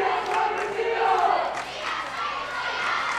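A basketball crowd at a game cheers and shouts in a loud, dense roar that swells and ebbs across the arena, with no single voice standing out.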